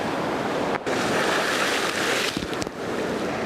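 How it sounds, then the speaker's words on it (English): Sea waves crash and wash back out along a shore in a steady broadband roar, with brief gusts of wind buffeting the microphone. "As the waves are crashing back out again"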